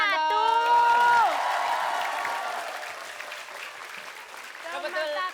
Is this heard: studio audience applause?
yes